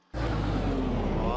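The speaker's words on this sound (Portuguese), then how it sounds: "Vamos ver se o motor tá dando partida." A VW Gol GTI engine catches after a brief quiet moment and settles into a loud, steady idle rumble inside a garage, close and continuous.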